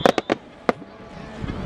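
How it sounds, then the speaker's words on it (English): Fireworks burst during a Fourth of July show, several sharp booms in quick succession then another after a pause, fairly near and loud against an open outdoor crowd murmur. "Juan, you need to sing with the fireworks"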